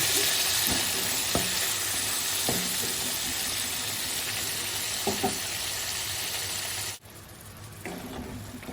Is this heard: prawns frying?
yes